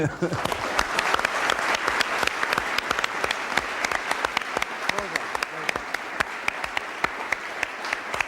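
Studio audience applause on a 1985 television programme, sustained crisp clapping from a sizeable crowd, loud and continuous, with a presenter's voice faintly beneath.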